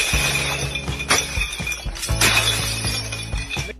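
A memorial is smashed and glass shatters in several loud, sharp crashes, leaving clinks and tinkling debris between the impacts.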